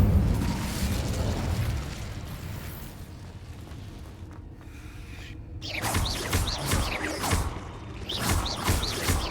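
An Incendio fire spell is cast in Hogwarts Legacy, a dense roaring burst of flame and crackle that swells loud, dips briefly, then returns with sharp popping flares near the end.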